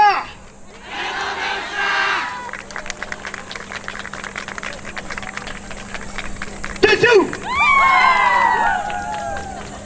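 Crowd cheering and shouting at an outdoor yosakoi dance festival in Hikarigaoka, rising in loud bursts over steady broadband crowd noise, with whistle-like calls near the end and an announcer's voice speaking over it.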